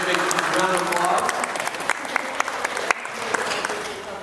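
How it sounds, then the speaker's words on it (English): A town hall crowd at LA City Hall gives loud, sustained applause during a 2013 economic development meeting, with sharp individual claps standing out and some voices mixed in. "So let's give a big round of applause."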